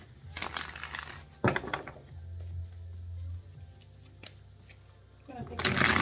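Tarot cards are shuffled in several quick riffling bursts, close and crisp, separated by pauses with a low hum in between.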